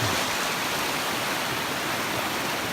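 River rapids on the Monsal Trail in the Peak District, a steady, loud, broadband rush of fast-flowing water heard close by without a break.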